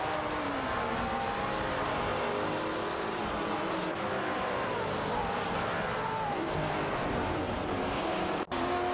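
Race cars in an AI-driven racing game, including a Ferrari 488 GT4 and an Aston Martin Vantage, roar continuously with layered engine drones and shifting pitch, loud and steady throughout with a brief dropout near the end.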